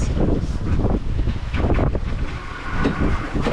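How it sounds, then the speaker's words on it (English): Steady rumbling wind buffets a sailboat under way in 18 to 20 knots of breeze on a passage toward Georgetown, a loud continuous roar with gusty swells and a faint wash of water beneath. "18 to 20 knots of wind"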